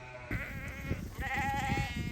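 Sheep and lambs bleat on a farm while being moved onto fresh pasture, several overlapping wavering calls close by, one long bleat standing out over the flock.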